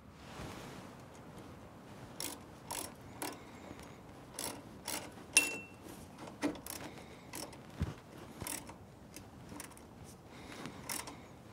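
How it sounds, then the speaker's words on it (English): A small quarter-inch drive ratchet tightens an exhaust clamp on a Kubota B2601 tractor, giving bursts of quick metallic clicking in short, irregular runs, close up with no voices. "now I'm just going to tighten this up with my little quarter inch drive ratchet."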